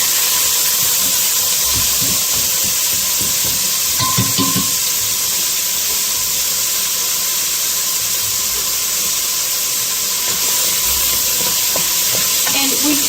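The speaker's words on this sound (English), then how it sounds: "Then let's add in the onion. Okay, so saute that down." Chopped onion sautéing in a pan, a loud continuous hiss and sizzle with faint stirring thumps and a brief clatter partway through.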